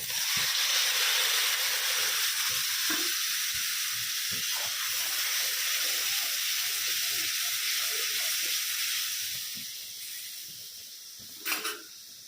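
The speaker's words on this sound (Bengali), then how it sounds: "এরপর দিয়ে দেবো হচ্ছে এই যে লঙ্কা, হলুদ আর নুনের জলটা।" Water mixed with chili, turmeric and salt hits a hot pan of black cumin and green chilies, giving a loud hissing sizzle that slowly fades over about ten seconds, followed by a brief clatter near the end.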